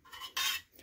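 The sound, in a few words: stirring spaghetti sauce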